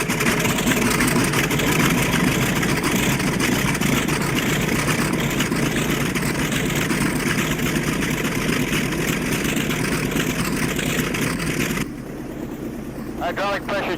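Radial piston engines of a B-25 Mitchell warbird bomber run loud and steady, a deep rumbling idle throughout, dropping slightly in level near the end while faint high whistles and cockpit chatter sit over the roar.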